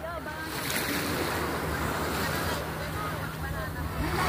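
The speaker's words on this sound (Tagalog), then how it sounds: "Lakas ng alon." Strong ocean waves surge and crash continuously at a beach, loud and close, with gusting wind buffeting the microphone and people talking beneath the surf.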